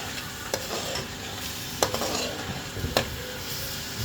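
Finely chopped carrots fry and get stirred in a pan while cooking for chicken spaghetti, a steady soft sizzle under scattered spoon scrapes and three sharper clinks against the pan, close and moderately quiet.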